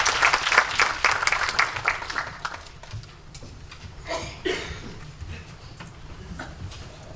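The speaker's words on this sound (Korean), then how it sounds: "큰 박수로 환영해 주시기 바랍니다." Audience applause welcoming a keynote speaker at a Korean developer forum, a burst of clapping that swells then thins into scattered claps and fades out over several seconds, moderately loud in a hall.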